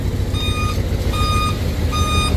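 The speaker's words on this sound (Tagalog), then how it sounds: "para maging aware yung mga ibang nagtatrabaho na may umaatras pong sasakyan" A Mitsubishi Fuso 8DC9 10-wheeler transit mixer truck sounds three evenly spaced, loud electronic reversing beeps over a constant low diesel engine rumble at a construction site.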